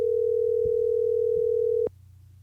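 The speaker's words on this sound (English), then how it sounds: "you could hear the phone ringing" A steady phone ringing tone carries through a podcast audio interface for almost two seconds, then cuts off abruptly, leaving a low hum.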